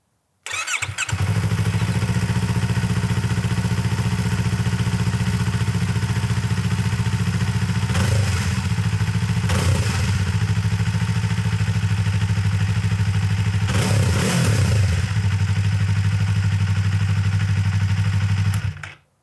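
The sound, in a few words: 2024 Yamaha MT-03 two-cylinder motorcycle engine starting, stock exhaust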